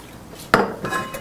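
Meat drops into a large stainless steel frying pan with a sharp metallic clank, followed by a softer knock and brief rattle, close and loud.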